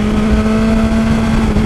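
A BMW S1000XR motorcycle engine runs on throttle with a loud, steady, close drone and a strong hum, holding an even level throughout without any speech.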